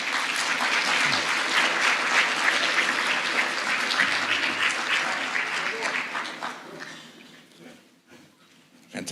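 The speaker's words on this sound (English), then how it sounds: "Give them a round of applause." Audience applause at an annual general meeting swearing-in ceremony for regional senators and women's representatives, a dense sustained clapping that holds steady for several seconds, then thins out and fades toward the end.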